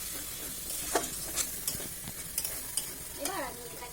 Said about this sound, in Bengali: একটু গরম মশলা দেওয়া হলো কষানোর সময়, অল্প জল দিয়ে।